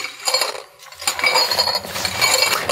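Loose pieces inside a box of budget bike lights rattle and clink continuously, bright and glassy like broken glass, close and fairly loud with no talking.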